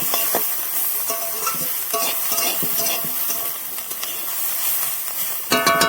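Gourd peel and cabbage frying in a little oil in a covered pan: a hissing, crackling sizzle with scattered utensil scrapes and a sharper clatter near the end, with no one talking.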